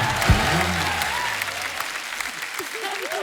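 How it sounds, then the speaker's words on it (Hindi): A studio audience at a comedy talk show claps in steady, dense applause throughout, loud and continuous, with a voice speaking over it. "जोरदार तालियां यार, वाह वाह।"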